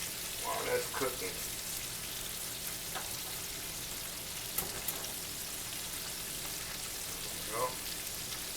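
Pork chops fry in an oiled skillet with a continuous soft crackling sizzle, with a few faint clinks and scrapes of utensils over it.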